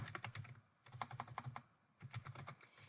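Rapid clicking of computer keys as a name is entered into a spreadsheet cell, two bursts of close, crisp keystrokes separated by a brief pause, no voices.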